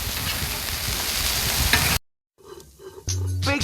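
Pancakes and bacon sizzle on a Blackstone griddle with a loud, dense hiss for about two seconds, then a sudden cut to quieter cooking sounds and a voice.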